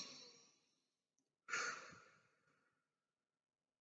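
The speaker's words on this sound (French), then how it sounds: "Tu peux faire des petites respirations comme je fais là" Two short, breathy exhalations come close and soft, a second apart, as part of a breathing exercise, with near silence between them.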